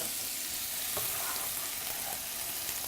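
Chopped onions frying in butter, a steady soft sizzle with faint crackles and occasional stirring, heard close and alone without talk.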